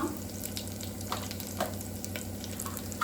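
Cumin and mustard seeds crackle and sizzle in hot oil in a home kitchen pan while cooking pudina vegetable rice, a steady close frying hiss with small pops scattered throughout.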